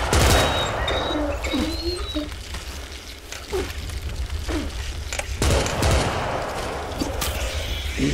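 Bursts of gunfire aimed at an enemy in a video game, loud volleys with short pauses, joined by brief chirpy effects and scattered booms.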